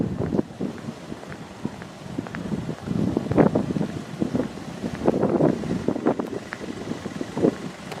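Gusty wind buffeting through the entrances of a seaside town in Llandudno, a rough, uneven rushing with bursts of microphone rumble, fairly faint and constant.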